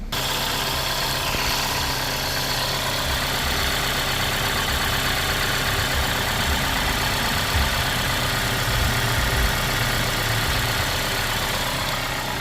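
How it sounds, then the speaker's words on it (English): A 2016 Kia Forte 5 with the 2.0L engine idles after an oil leak repair, a steady, even mechanical hum with constant vibration and no change in pace, close and alone. "we're going to start it up, make sure the oil light goes out, make sure there's no leaks"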